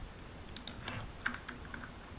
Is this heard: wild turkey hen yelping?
no